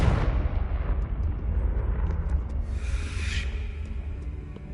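A fiery Confringo spell blast in Hogwarts Legacy gives a loud, rumbling explosion that roars continuously with heavy low-end crackle and a brief whooshing burst partway through, sustained without speech.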